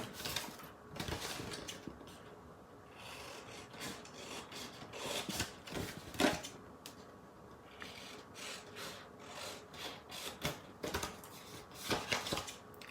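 Scissors cut through printed paper for a holiday berry basket, giving a run of close, irregular snips and rustles with short pauses between strokes.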